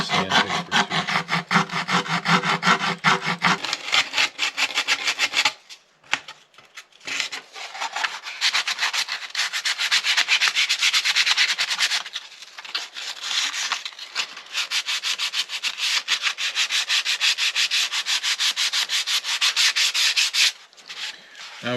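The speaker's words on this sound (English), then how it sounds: "Now we can give it a good sanding on the back, get any stray glue marks off." Steady back-and-forth rasping of sandpaper on the back of a wooden mandola body, loud and close, in long continuous strokes with a few short pauses.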